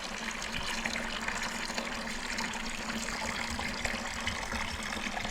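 Water flows steadily through a siphon hose as a home fish tank with a sand bottom is cleaned, giving a continuous gushing, trickling wash with no pauses.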